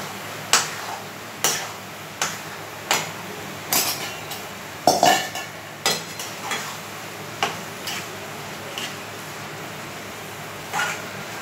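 Moong being added to spiced masala and roasted in a pan, with a steady run of sharp spoon-on-pan scrapes and clinks roughly once a second, fairly close and alone without talk.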